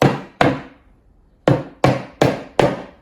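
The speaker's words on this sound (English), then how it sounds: "Give it a gentle tap, see if we can encourage it to come off." Gentle hammer taps loosen a part of a DIY custom medicine cabinet during a bathroom renovation. There are six sharp, close knocks: two in quick succession, a pause of about a second, then four more in a quick, even rhythm.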